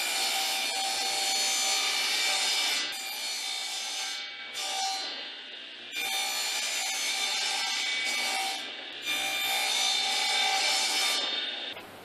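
A table saw with a miter gauge nibbles out a notch in a small wooden crossbow piece, a loud bright whine repeating in several passes with short dips between cuts, no talking.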